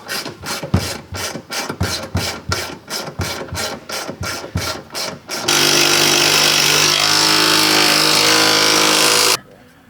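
An 8mm ratchet wrench works hose clamps loose on a 2024 Ram 2500 truck during a fuel tank install: a rhythmic run of close, sharp ratcheting clicks, then a sustained loud mechanical whir.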